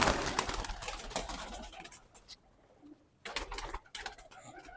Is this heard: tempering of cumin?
no